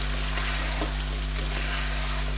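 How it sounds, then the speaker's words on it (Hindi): Chicken pieces fry in oil in a pot over high heat, giving a steady, close crackling sizzle with a low hum running underneath throughout. "बस ये मैं ज़रा तेज़ आंच में भून लूँ"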